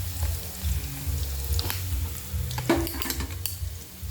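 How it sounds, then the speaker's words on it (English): Onions fry in a pan over low heat with a soft, steady sizzle, broken by clinks and scrapes as a utensil stirs against the pan, near and without talk. "frying my onions here"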